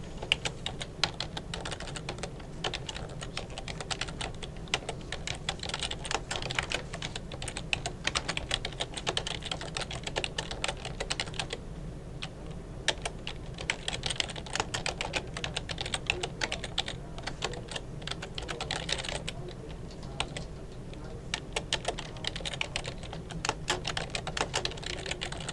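Rapid, continuous clicking of a computer keyboard as Java code is written in the Vim editor, close and steady with brief pauses, with no voice over it.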